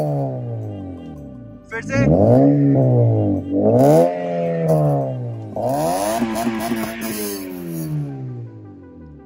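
Modified Honda Civic with twin functional exhaust tips revving outdoors, three loud rising revs building and falling back close by, with someone speaking briefly and other voices behind.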